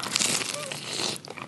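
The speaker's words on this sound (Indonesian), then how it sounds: "Cireng saljunya enak banget, renyah, terus gurih. Dicocol sama sambal rujak." A crunchy bite of cireng salju, a fried tapioca snack, dipped in sambal rujak, with crisp crackling crunches close to the mic in a short burst.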